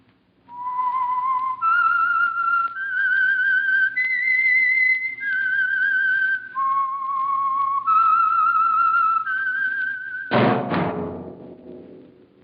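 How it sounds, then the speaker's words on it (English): A clear, melodic whistled tune of sustained notes stepping up and down, loud and close, the theme of an old radio drama, ending in a sudden deep thump and fading resonance. "That whistle is your signal for the Signal Oil Program, The Whistler."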